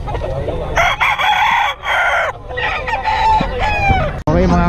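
Several roosters crow loudly and close, one after another, at a busy chicken market, with clucking between the calls.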